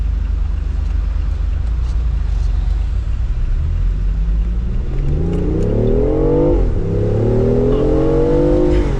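A synthetic three-cylinder car engine note rises and revs with stepped, buzzy harmonics over a steady low road rumble, loud and continuous with no voices.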